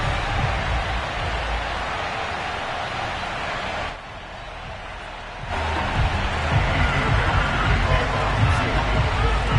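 A sold-out Buffalo stadium crowd in the Madden football video game roars as a continuous loud wash of noise, briefly dropping in level for a moment before swelling back up for a Bills game against the Houston Texans.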